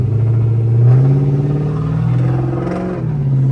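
A Chrysler 300C with a catless straight-pipe exhaust idles and revs close up, its deep, high-pitched raspy rumble rising and falling.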